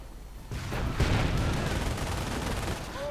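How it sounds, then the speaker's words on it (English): Game gunfire from a half-track machine gun suppressing infantry in a World War II strategy match, a dense continuous rattle of bursts with distant booms, starting abruptly and sustained at moderate loudness. "In fact, the Panzers, but they're themselves getting suppressed by the infantry half-tracks machine gun."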